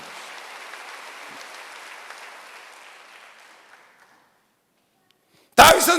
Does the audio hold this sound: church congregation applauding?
yes